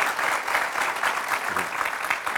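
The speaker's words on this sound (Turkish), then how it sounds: "Buna bir alkış." A television studio audience claps steadily in a dense, close wash of applause that continues evenly without a break.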